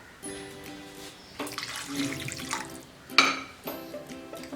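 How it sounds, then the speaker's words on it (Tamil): Water poured into a cooking pot while preparing a Tamil elephant foot yam curry, coming in several separate splashing pours with short pauses between them, close and fairly quiet. "இப்போ வந்து நம்ம தேவையான அளவுக்கு தண்ணி சேர்த்தாச்சு"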